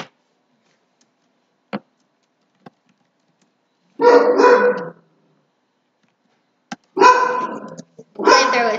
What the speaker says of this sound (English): She's barking at a car.